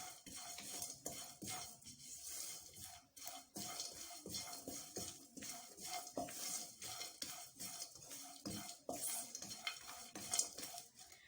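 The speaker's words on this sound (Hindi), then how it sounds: "नारियल को मैं इसलिए थोड़ा रोस्ट कर रही हूँ क्योंकि ये कच्चे नारियल का पाउडर था।" Raw coconut powder is roasted and stirred in a pan, with a spoon scraping and clinking against the metal in an irregular rhythm over a faint, constant sizzle, close by and quiet.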